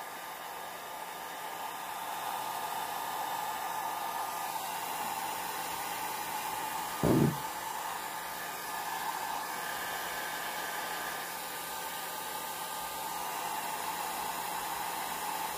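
Hair dryer blowing steadily on alcohol ink in shot glasses, a constant close whooshing roar throughout with one brief bump partway through, no talking.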